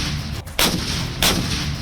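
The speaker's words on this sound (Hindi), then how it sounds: "ये तोप 15 सेकंड के अंदर 3 गोले दागने में सक्षम है।" K9 Vajra self-propelled howitzer firing shells: two sharp, loud blasts about half a second apart, each followed by a rumbling roar over steady background noise.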